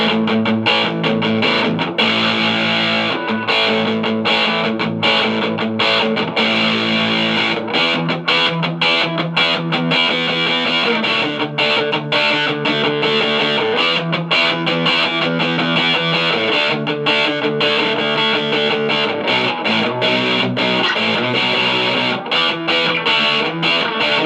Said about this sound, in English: Turbo distortion.